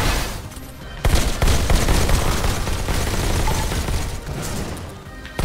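Gunfire in the VR shooter Robo Recall, loud dense bursts of rapid shots and impacts that go on almost without a break over a busy, noisy game background.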